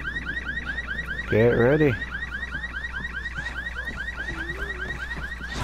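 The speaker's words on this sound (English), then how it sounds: "Oh yeah, this is an alarm too." Electronic alarm in Resident Evil 6, a repeating rising-and-falling warble that cycles steadily and continues throughout, briefly joined by a loud sweeping tone and a short spoken line partway through.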